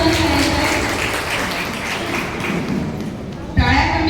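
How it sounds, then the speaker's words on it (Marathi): Applause at the Manthan exam prize ceremony for a girl pupil of a Zilla Parishad primary school who placed second in her centre: dense steady clapping throughout, with a voice talking over it. "टाळ्या कमी झाल्या नाही पाहिजे"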